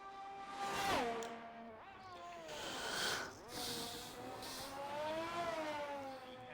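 Race car engine from a racing video game on an out lap, driven by Oliveira for AlphaTauri in an F1 league round at Canada, a steady tonal engine whine rising and falling with gear changes throughout.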